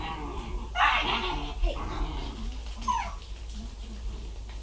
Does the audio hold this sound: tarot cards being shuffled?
no